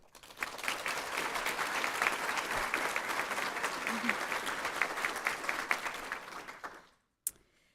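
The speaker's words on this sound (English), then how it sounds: "let's please give a round of applause to the staff, faculty, and students that made today possible" Warm, sustained applause at a graduation ceremony for staff, faculty and students, a crowd clapping steadily for several seconds before cutting off, followed by a single sharp knock.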